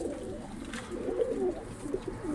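Pigeons cooing in a backyard coop where young birds are growing, a steady low murmur of overlapping coos with soft rustling, close and continuous throughout.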